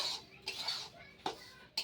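A spoon stirs semolina frying in a pan at home for thekua, giving a few sharp metallic clinks and scrapes spaced apart over quiet background.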